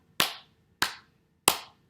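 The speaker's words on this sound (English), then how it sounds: "And they can clap. Can we clap?" Three sharp hand claps, evenly spaced and close, each a crisp smack with a short decay, in otherwise quiet surroundings.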